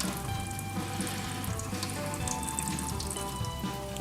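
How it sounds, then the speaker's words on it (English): Fat being drained from cooked ground meat out of a steam jacketed kettle runs as a steady, close pouring and splashing wash of liquid with a faint sizzle, continuous throughout with no voices. "I'm gonna drain out the fat"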